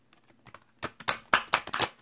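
A deck of Psychic Tarot for the Heart oracle cards gets shuffled by hand nearby, with light taps leading into a quick series of crisp riffling bursts in a quiet room.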